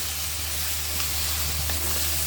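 Loitta fish, already seasoned with turmeric, hit a hot pan of oil and give a steady, even hiss of frying. The sizzle runs throughout at moderate loudness with a faint low hum and no talking.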